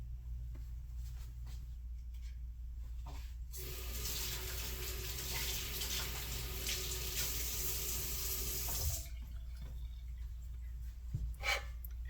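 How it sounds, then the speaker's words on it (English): A kitchen tap runs for about five seconds while fingers are rinsed under it after cracking eggs. The faint hiss of the stream starts and stops cleanly against a low background hum. "You should always rinse your fingers off after cracking the eggs because, you know, you get a little bit on your fingers."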